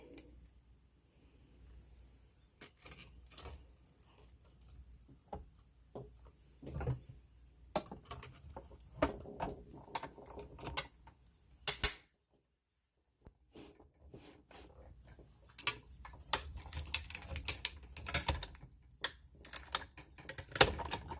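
A Big Kick die-cutting machine is cranked to cut card, giving irregular clicking, ratcheting clatter with sharp taps, a short pause midway, then more rapid clicking.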